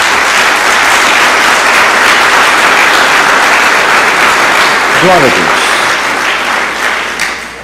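A church congregation at a worship service claps loudly and continuously in a thick, close burst of applause while a voice calls out over it, and the clapping tapers off toward the end.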